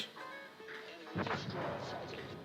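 Torpedo hits explode against an enemy ship in the naval game World of Warships: Legends, a faint whistling tone and then a sudden booming burst that rumbles on, heavy and close, with a voice faintly underneath.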